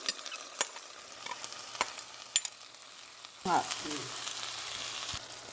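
Sautéed ivy gourd goes into a hot pan with a few sharp clicks, then a sudden loud sizzle breaks out and continues as a steady frying hiss close by.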